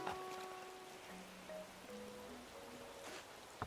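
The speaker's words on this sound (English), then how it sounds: "Rain has arrived." Steady rain pattering in the video game Animal Crossing, a soft continuous hiss beneath gentle melodic game tones and a brief tap near the end.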